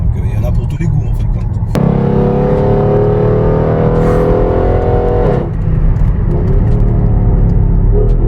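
Mercedes GLE 63 AMG S with a 585-horsepower engine, a deep, steady, loud engine rumble that swells into a rising rev partway through, holding strong throughout; speech sounds may sit faintly underneath.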